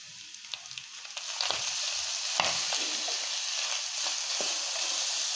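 Grated coconut roasting in a hot pan for an onion curry gives a steady, close sizzling hiss with scattered light scrapes and clicks of stirring, growing slightly louder partway through, with no talking.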